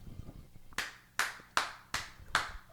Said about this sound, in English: I'm going to clap for you too